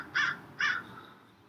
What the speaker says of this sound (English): Do you hear the corvids? Are they calling you?